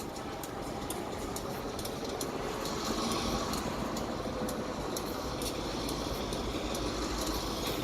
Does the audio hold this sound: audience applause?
no